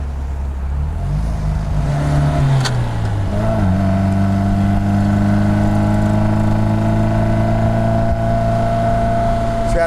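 A right-hand-drive 1952 MG TD export model on the road, its engine droning loud and close while it accelerates through the gears with a shift partway through, then settling into an even cruising hum.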